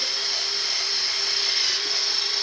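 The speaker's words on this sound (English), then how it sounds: "you can buy a bunch of these little wire brushes. You put them on a cordless drill" Steady, high-pitched whirring of a wire brush spinning on a cordless drill over an engine cylinder head, close and continuous without a break.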